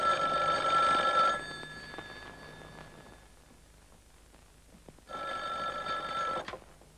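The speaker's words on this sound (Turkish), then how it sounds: "Merkezimizin telefonları Aydar Dümen'in 900'lü hatları yoğunluğunda durmadan çalıyordu." Telephones ring in a busy news center: two loud bursts of electronic ringing, the first right away and the second about four seconds later, with a quieter stretch between them and no talking.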